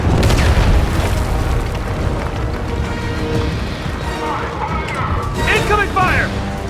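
Heavy booming blasts from incoming fire erupt in a video game battle, with a loud low rumble at the start, continuous crashing and mechanical noise, and a voice shouting over the din near the end.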